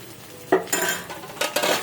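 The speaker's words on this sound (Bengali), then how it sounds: "একটু নেড়ে" A utensil stirs jackfruit seed dal in a metal pot just after chopped coriander leaves go in, giving several close, sharp scraping clanks in an uneven rhythm against a quiet background.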